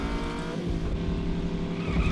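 Race car in The Saboteur video game roaring along a road with tires squealing and skidding, a loud continuous engine and skid sound that fills the whole stretch.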